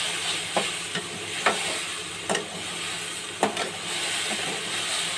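A vegetable bhaji frying and starting to burn in a pan gives a steady close sizzle and hiss, broken by a few sharp pops and stirring scrapes.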